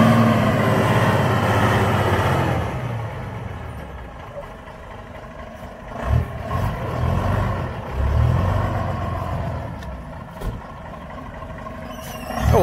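A truck arriving to haul away a harvest, its heavy engine rumbling loudly at first and then easing off, with a few deeper surges as it moves along.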